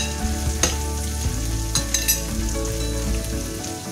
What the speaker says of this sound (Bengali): এবং মশলাটিকে ভালো করে কষিয়ে নিতে হবে।